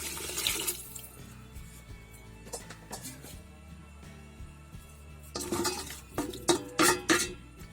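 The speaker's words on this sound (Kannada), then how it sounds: "ಸ್ವಲ್ಪ ನೀರು ಹಾಕ್ತಿದ್ದೀನಿ." Water is poured into a pan of ghee-fried jackfruit for payasa, with clinking utensils nearby and louder bursts of splashing toward the end.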